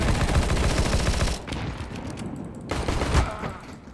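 Rapid bursts of gunfire fill a multiplayer shooter video game match, dense and loud for the first stretch, then thinning into scattered shots after a brief lull, with no voices over it.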